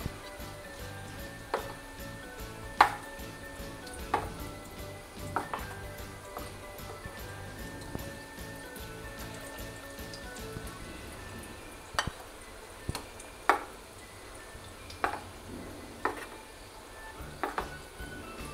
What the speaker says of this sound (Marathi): जेवढे आपल्या कढईत बसत आहेत तेवढे आपण हे वडे तळून घेऊ